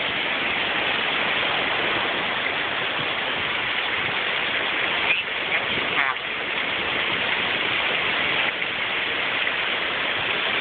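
Small waterfall at the east end of Miners Beach, a steady, loud rushing splash of falling water that fills the whole stretch without letup, heard close up.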